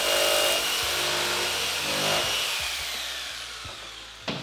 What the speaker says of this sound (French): on peut commencer à tout découper à la scie sauteuse